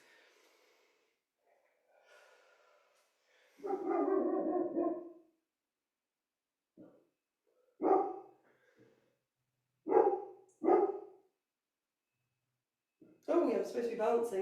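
A dog barks a few times in short, sharp bursts, spaced apart and mixed in between stretches of a person talking nearby.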